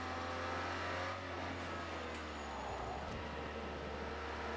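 An Aston Martin engine in Project Cars 2 hums at a steady, sustained drone with a low constant tone, heard from inside the car and fairly quiet, with no voices over it.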